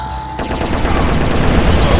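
A laser rifle in the video game Turok Dinosaur Hunter fires rapidly, a loud dense stream of sharp shots that starts abruptly after a brief quiet tone and continues without pause.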